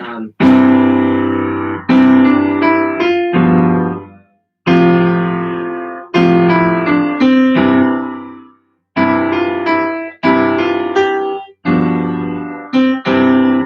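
A piano plays chords and a melody together in phrases, with sustained bass notes under a moving upper line, pausing briefly between phrases, clear and alone.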